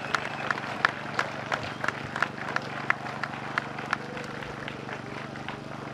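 A live audience claps in warm welcome for a party leader stepping up to speak at a May Day rally, the applause a steady, moderately loud patter with sharper individual claps, under some crowd murmur.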